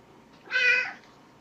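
A single short, clear meow from a cat nearby, loud and distinct in an otherwise quiet room.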